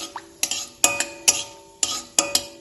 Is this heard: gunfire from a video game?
no